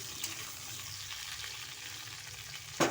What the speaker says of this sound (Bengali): সেই তেলের উপরে আমি আলুগুলোকে ভাজতে শুরু করে দিয়েছি